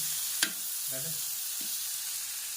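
Chicken sautés on a tawa in a steady, moderate sizzle, with a sharp click of a utensil early on and a few soft scraping stirs, no talk.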